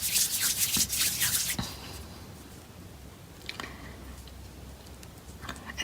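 Hands knead and soften polymer clay on a squishing surface, making close, soft rubbing and squishing sounds for about a second and a half before things go quiet, with a couple of faint handling noises later.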